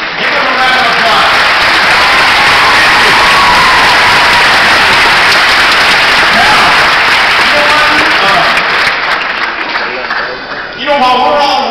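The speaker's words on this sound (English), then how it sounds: "Give them a round of applause." A large audience at a 2010 student event applauding, loud sustained clapping that fills the space and stays steady before tapering slightly at the end, with cheering voices mixed in.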